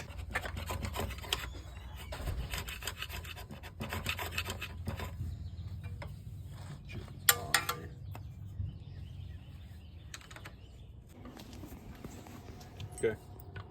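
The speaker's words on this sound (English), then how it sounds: "Just gotta scrape the gasket off" An old clutch gasket is scraped off the engine case of a 1993 Honda XR80 dirt bike, giving repeated rasping, rubbing strokes at close range, fairly quiet, with occasional talk.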